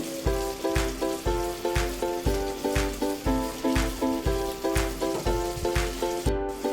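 Food frying in a pan being stirred with a utensil, giving a steady sizzle under regular scraping strokes and steady background music, with no talking.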